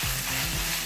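Potatoes and carrots fry in a pan while being stirred, making a loud, dense sizzle with soft scraping movements underneath, continuous and close for under a second.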